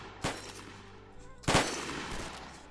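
Two sharp pistol shots in a first-person shooter, loud and close, about a second apart, each ending in a short echoing tail, with no talking.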